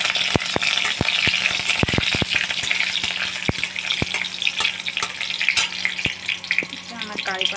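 Curry leaves and cumin seeds sizzle steadily in hot oil, with the dense crackling frying broken up by sharp spoon clicks and scrapes against the pan throughout.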